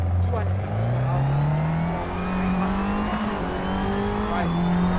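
Race car engine in the eRacing GP racing game on the Thompson Road Circuit in Singapore, a loud steady drone climbing in pitch through an upshift, with faint tyre noise.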